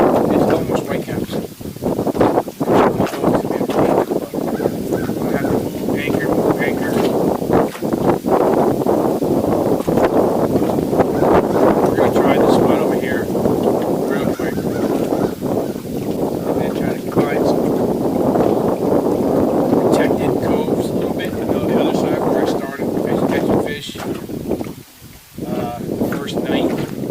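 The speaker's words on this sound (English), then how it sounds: "The wind's coming from the south pretty hard." Strong wind gusting across a lake while a small boat is out on rough, near-whitecap water, a loud constant roar of wind buffeting the microphone with someone talking over it.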